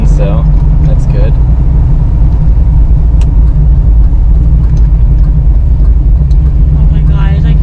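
A 1973 Camaro Z28, back on the road after 25 years, drives with a loud, steady low engine rumble throughout, with people talking over it.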